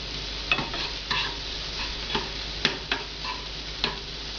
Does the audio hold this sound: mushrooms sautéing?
yes